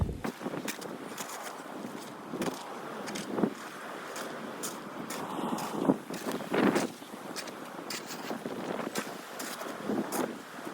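Strong wind during a heavy New York snowstorm buffets the microphone outdoors, a continuous low rumbling roar broken by sharp gusts and thumps, with no voices over it.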